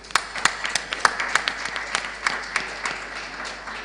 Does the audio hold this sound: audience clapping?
yes